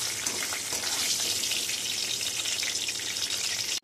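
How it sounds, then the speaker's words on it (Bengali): Cashew nuts and raisins fry in hot oil in a pan while chirer polao is being made, a loud, steady, crackling sizzle that continues without a break. "ওতে কাজু বাদাম আর কিশমিশ অ্যাড করে দিচ্ছি। বাদামটা ভাজা ভাজা হয়ে গেছে"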